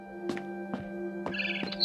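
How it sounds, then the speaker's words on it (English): In the game What Remains of Edith Finch, a barn swallow outside a window gives four short, clear chirps at a steady pace over a faint steady hum. "Then I heard chirping outside my window."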